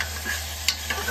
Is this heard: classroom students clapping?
no